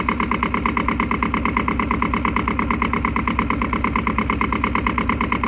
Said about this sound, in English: Gonna readjust the tractor to pull it at a different angle